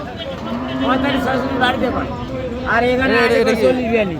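Bulls low repeatedly amid a busy outdoor crowd at Ambari cattle market in Dinajpur, with people chattering nearby over the animals' drawn-out calls.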